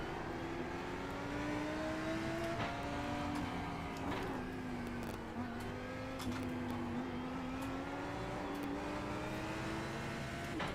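A BMW M4 GT4 race car engine in iRacing at Watkins Glen, loud and steady, revving hard under throttle with rising and falling pitch as it shifts through gears, continuous and close throughout.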